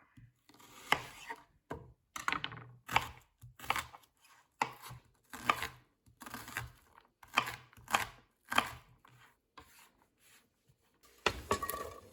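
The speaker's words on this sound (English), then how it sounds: "getting some onions diced up a little bit" Rapid knife dicing onions on a cutting board, a steady run of sharp taps in short bursts with brief pauses between, close and clear with no talking.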